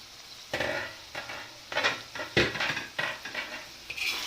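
Meat sizzles and spits in a pot while cooking for Turkish saç kavurma, with scraping stirs and clinks of a utensil against the metal in irregular bursts.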